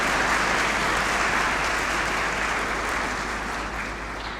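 A church congregation at Sunday Mass breaks into warm, dense applause for Word of God Sunday, a steady wash of clapping that fades slightly over a few seconds.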